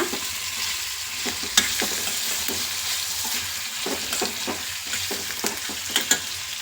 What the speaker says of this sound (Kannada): ಒಂದು ನಿಮಿಷ ಸ್ವಲ್ಪ ಫ್ರೈ ಮಾಡಿಬಿಡೋಣ ಒಂದೆರಡು ನಿಮಿಷ